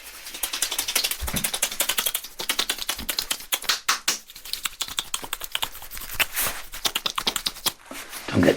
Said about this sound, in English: That's the sound of me applying hand sanitizer and rubbing it in.